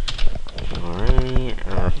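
Quick clicks of typing on a computer keyboard come through under a person talking steadily.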